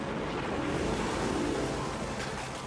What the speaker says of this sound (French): le vent se lève et le temps se rafraîchit